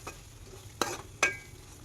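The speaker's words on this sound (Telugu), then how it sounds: "మంచిగా నూనెలో పచ్చివాసన పోయేంత వరకు వేపుకోవాలి." A spoon stirs tomato cashew paste frying in oil in a pan, giving a couple of short scraping strokes over a low, steady sizzle.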